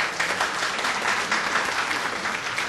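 Applause from a conference audience: dense, continuous clapping from many hands, fairly loud and even throughout the short stretch, with no voices over it.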